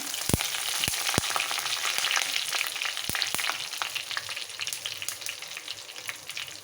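Curry leaves sizzle and crackle in hot oil with mustard seeds for a Kerala garlic prawn curry, a steady loud frying hiss with a few sharp pops near the start and no talking.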